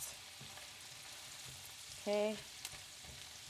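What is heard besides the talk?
sliced yellow onion frying and being stirred in pan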